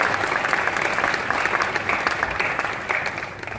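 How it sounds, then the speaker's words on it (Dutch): Audience applause for a district alderwoman at a local event, steady continuous clapping from a crowd, fairly close and even in loudness from start to finish. "mag ik een heel groot applaus voor jullie eigen stadswethouder"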